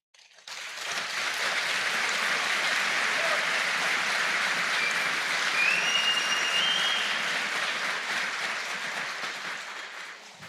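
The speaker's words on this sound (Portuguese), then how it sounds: "Nós deveríamos aplaudi-los." An audience at a men's event in Jundiaí gives the presenters a sustained, dense round of applause, rising quickly, holding steady and loud for about ten seconds, then tapering off near the end with no voices over it.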